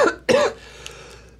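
Two short, harsh coughs from a person whose throat is irritated by spicy Pixie stick powder, close and loud, the second cough longer and fading into quiet.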